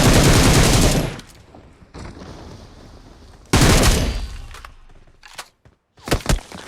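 Heavy bursts of automatic gunfire from a PUBG Mobile match, loud and close, with a long opening volley, a second burst mid-way and a few sharp single shots near the end.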